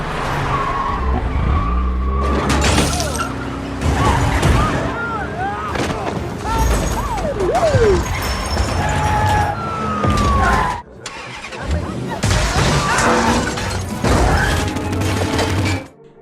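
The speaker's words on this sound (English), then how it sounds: "Chaos erupts throughout the streets as the hacked cars crash into each other" Hacked cars crash into each other through city streets in a Fast & Furious film action scene: loud tire squeals, revving engines, rising whooshes and repeated heavy impacts in a dense, nonstop mix.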